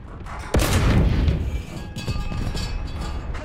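A tank cannon fires in War Thunder at low tier: a single loud boom near 0.5 s that lingers and rumbles off, with engine and battle noise continuing underneath.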